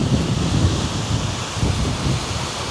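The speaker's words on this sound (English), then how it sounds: "It is windy" Gusty wind blows at the Fitzroy Falls lookout in Morton National Park, a steady, close rushing roar that buffets the microphone, with no one talking.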